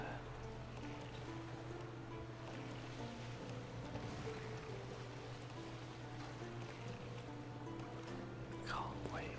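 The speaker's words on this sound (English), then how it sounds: "Just sailing our way back down to the other end of this, this lake." A boat sails across a calm lake in The Witcher 3 video game. Soft, steady water lapping and wash continue throughout, faint and low, with quiet whispered talk over it.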